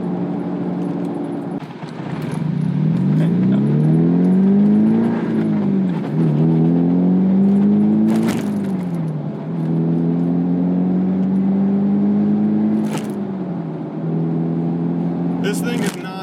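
A Mazda car engine cruising in fourth gear at about 2,700 RPM and 45 mph, a steady low drone that rises and falls slightly in pitch, heard from inside the cabin with occasional brief clicks.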